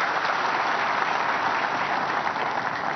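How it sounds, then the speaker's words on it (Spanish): A church congregation applauding in thanks at the novena of the Virgin of Caacupé, a steady, dense wash of clapping from a large crowd throughout, with no talk. "También un fuerte aplauso de agradecimiento."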